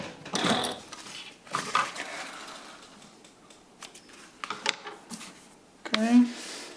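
A Juki 1541S industrial sewing machine stitches through eight layers of 500D Cordura with a size 16 needle, running in short mechanical bursts with pauses, close by, and a voice is briefly heard near the end.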